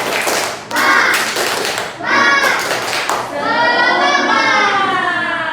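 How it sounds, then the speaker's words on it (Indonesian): A school class does a rhythmic spirit clapping routine, with bursts of many hands clapping in sync, separated by short pauses, alongside children's voices chanting together. "kita tepuk semangat dulu boleh supaya pembelajarannya lebih semangat lagi"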